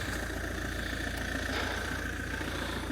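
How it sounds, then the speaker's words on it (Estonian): A car engine idling steadily after being started, a close, even low rumble with a faint whine above, holding constant and alone for a few seconds. "auto panime tööle"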